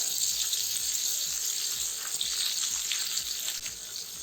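Chicken satay skewers sizzle steadily in a pan over medium heat, a continuous close frying hiss with faint clinks and soft shuffles as the pieces are turned.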